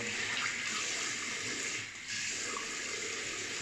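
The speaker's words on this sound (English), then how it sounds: "All right, cold water on the face." Cold tap water runs and splashes in a bathroom sink as it is scooped onto a freshly shaved face, a steady close rushing stream with a brief dip midway.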